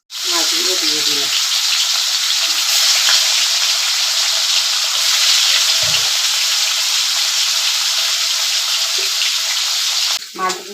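Bhangar fish frying in hot oil in a wok, a loud continuous sizzle that holds steady for several seconds, with a few faint brief voices or clinks under it before it cuts off.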